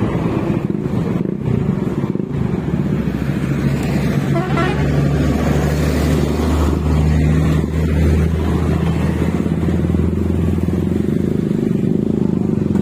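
KTM Duke 250 motorcycle engine running steadily with a continuous low drone while riding before a wheelie, loud and close, with faint traffic and a brief horn-like toot in the background.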